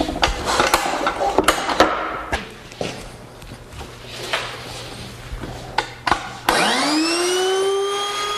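A hand router spins up with a rising, steady whine as it takes a small practice pass in plywood scrap, preceded by several scattered clunks and handling knocks on the bench.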